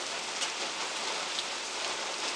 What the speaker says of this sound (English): Now it's raining even harder.